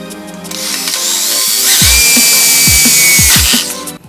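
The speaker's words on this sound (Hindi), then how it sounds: "ये अभी छोटा मैंने ड्रिल किया है ताकि गाइड मिले।" An electric drill whines close and loud as it bores a small guide hole for a homemade butane gun, running steadily for several seconds with rising pitch and grinding bites into the material before spinning down.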